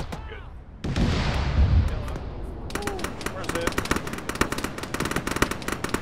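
Rapid bursts of gunfire crackle through a video game battle near woods with tanks, sharp repeated shots stacking into dense volleys after a loud blast, with voices talking over the fighting.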